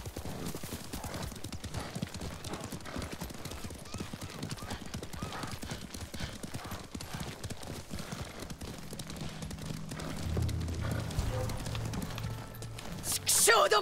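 Horse galloping in Ghost of Tsushima, a steady quick clip-clop of hoofbeats throughout under spoken dialogue, with louder rumbling and a sharp sound near the end.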